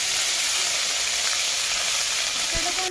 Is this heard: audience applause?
no